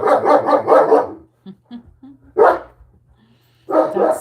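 A dog barks in a quick burst of several sharp barks, then pauses and barks again twice, close and loud.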